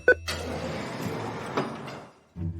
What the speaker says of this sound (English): Bill unlocked the bathroom door